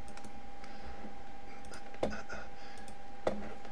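Two distinct computer mouse clicks, spaced about a second apart, on Apply and OK buttons in a Windows firewall settings dialog, sharp and close over a faint steady hum.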